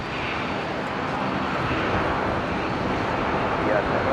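Airliner taking off at Brisbane International Airport, a steady broadband engine roar that holds at an even, fairly loud level with no breaks, carrying faint wind-like hiss on top.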